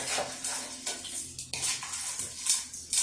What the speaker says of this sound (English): going to stir it up real quick.